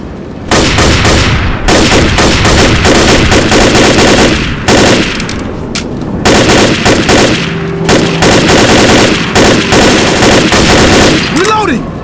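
Rapid automatic gunfire from the zombie shooter game Left 4 Dead at a construction site, loud sustained bursts with brief gaps, mixed with game effects and occasional voices.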